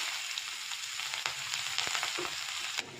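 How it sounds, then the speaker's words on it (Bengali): A large chopped onion sizzles and fries steadily in a pan in a home kitchen, a continuous crackling hiss with a few soft stir clicks, close and fairly quiet, with no talking. "আমি একটা বড় সাইজের পেঁয়াজ কুচিয়ে নিয়েছি সেটা দিয়ে দিলাম"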